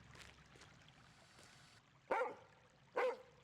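A dog in the video game Lorelei and the Laser Eyes gives two short, sharp barks about a second apart over a quiet ambient background, fairly close and clear, with no talk.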